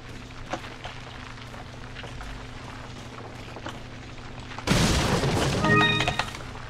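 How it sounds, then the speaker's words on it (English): Rock and rubble crumbling and caving in during Resident Evil 4, a low rumble with scattered knocks that bursts into a loud crashing collapse near the end, lasting about two seconds before easing. "what's crumbling like that?"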